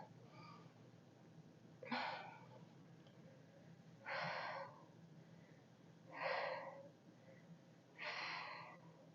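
Heavy, effortful breathing during a follow-along home workout, with four loud breathy bursts spaced about two seconds apart in a steady rhythm, close to the microphone, over a low background hum.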